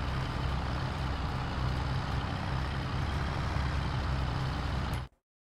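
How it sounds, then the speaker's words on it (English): Tractor engine in Farming Simulator 22, an older 49-horsepower machine pulling a 20-horsepower seeder, droning loud and steady as it labours, then cutting off abruptly near the end. "tractor is struggling big time"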